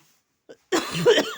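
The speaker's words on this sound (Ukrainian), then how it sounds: "пилюка від сіна кашляю" A faint throat sound, then a rough, raspy cough burst up close from hay dust, strained and breathy.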